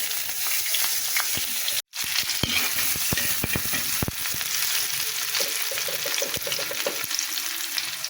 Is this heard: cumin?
yes